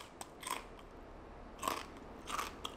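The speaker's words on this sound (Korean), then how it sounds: "우와 소리 들어보세요. 바삭한 소리." Three crisp crunches, close up, each a short crackly bite into eel fried in sweet potato and potato starch batter, separated by quiet pauses.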